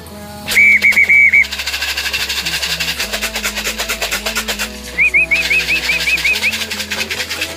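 Pigeons returning to a loft, with bursts of flapping wings as they come in to land, a repeated whistle above a steady low hum, loud and close, with no talk.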